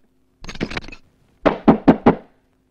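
Knocking on a locked door, two close, loud bursts: a fast flurry of raps, a short pause, then four heavier evenly spaced knocks.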